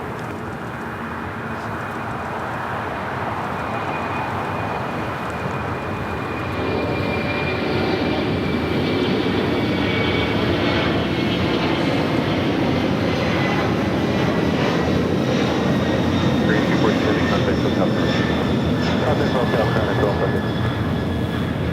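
A heavy jet airliner taking off from runway 25 left at LAX in clearing fog, a loud, building engine roar with whining turbine tones that rises and holds strong to the end.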